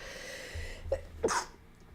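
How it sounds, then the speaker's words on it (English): A single sneeze, a sharp catch of breath followed by a bright, explosive burst, heard close up with no talking. "I have a sneeze stuck in my nose somewhere"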